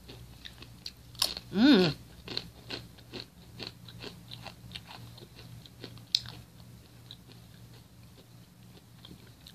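Thick, crunchy chips resembling banana chips, seasoned with lime and salt, are chewed close up in a series of crisp crunches. A brief appreciative hum comes from the eater.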